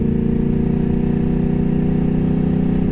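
A 2009 Yamaha R1 motorcycle engine roars loud and close with the clutch pulled in, a steady dense rumble held throughout without pause.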